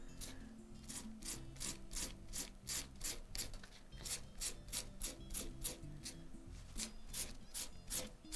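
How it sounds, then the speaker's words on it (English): Snake skin being tanned, a tool rubbed in steady, repeated strokes along the side scales, giving a regular rasping scrape, close and fairly quiet, with no talking. "I'm kind of barely rubbing along the first line of the side scales, just to kind of help loosen those up"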